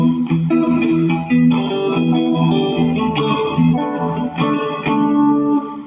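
A Fender Stratocaster electric guitar on the neck pickup plays through distortion and chorus effects, picking out loud, close notes and chords in a steady, phrased rhythm with no voices.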